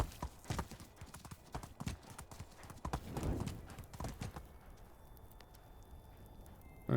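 Horse hooves clip-clopping through the first half in the medieval game Medieval Dynasty, a steady near rhythm with a brief whinny, then fading to quiet ambience; someone speaks faintly over it.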